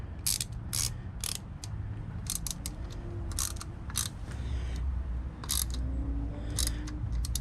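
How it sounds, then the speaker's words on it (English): Ratchet tightening a 5mm bolt on a 49cc-80cc two-stroke racing carburetor, with repeated quick clicking strokes in short bursts, fairly quiet and close, no talk. "Tightening it down. Turned out to be a 5mm."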